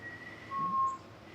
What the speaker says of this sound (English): Come show me how you whistle.